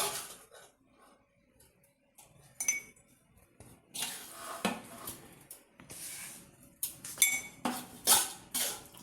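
A metal vessel and utensils clink and scrape while food is washed in a pot, with sporadic sharp metallic knocks that grow busier and louder toward the end, up close.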